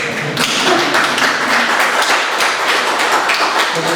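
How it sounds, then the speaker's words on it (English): Dense audience applause at the close of a talk on Buddhist psychology, a continuous loud roar of many hands clapping that holds steady throughout. "Let's give yourself a round of applause"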